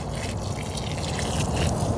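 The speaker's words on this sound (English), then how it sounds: "I'm just giving it a little bit of drink of water while it's in the container. And I'll put some water in the hole as well." Water poured into a freshly dug planting hole in a garden bed while setting a perennial hibiscus, a steady close splashing trickle that runs on without a break across the whole stretch.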